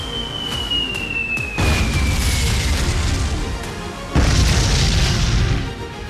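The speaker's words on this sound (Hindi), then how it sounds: "बम बारूद के धमाकों की आवाज आ रही है।" Heavy bomb blasts over Lebanon: a deep boom at the start, a whistling descending tone, then two massive low explosions that rumble on loudly, each one striking suddenly and sustaining a thick roar.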